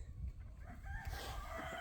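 Free-ranging chickens cluck steadily at a distance, soft and low in level, with a few rooster-like calls mixed into the flock chatter and no one talking.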